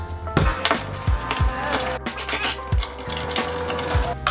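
Sharp clicks and knocks come in an irregular run as a magic arm is fitted onto an iPad mount bracket, close up with nothing else under them.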